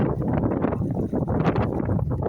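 Strong wind buffets the microphone outdoors in an Asian city, a continuous low rumbling roar with gusty surges and no voices.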